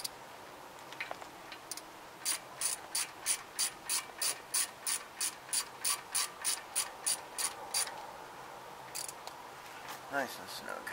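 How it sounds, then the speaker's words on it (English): A small hand ratchet wrench snugs down brake bolts on a Lincoln MKS during a brake change, giving a steady run of about twenty quick, even clicks up close, with a brief pause and a few more clicks near the end. "Go get my little ratchet here."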